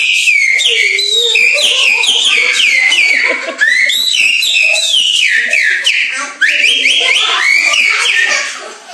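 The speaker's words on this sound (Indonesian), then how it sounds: "Suara burung." Bright, warbling high-pitched calls fill the whole stretch continuously, like a bird chirping and whistling close by, with rising and falling trills and only brief dips in loudness.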